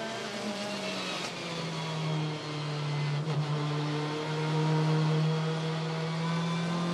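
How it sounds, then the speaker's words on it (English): WTCC touring race car at the 2015 France round, its engine idling and warming up on a hot day with steady droning tone and occasional small blips, close and continuous throughout. "So warming everything up, making sure all the settings, anti-lag, start maps, throttle maps, everything in the right place."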